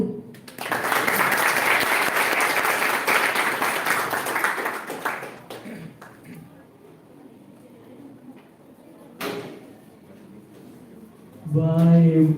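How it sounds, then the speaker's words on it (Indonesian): An audience at a literary criticism talk on Javanese tembang and gancaran gives loud, sustained applause for about five seconds after a presentation, then it fades to quiet room noise before a voice speaks. "kita berikan tepuk tangan sekali lagi"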